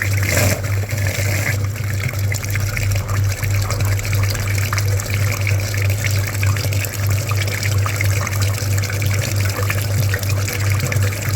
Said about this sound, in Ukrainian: Миємо передній радіатор. Промивка переднього радіатора триває.